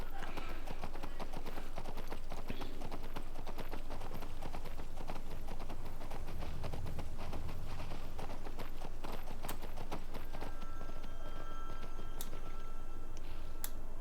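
Horses in Skyrim clip-clop with a dense, continuous run of hoof taps at close range, steady and busy throughout, with faint game ambience behind.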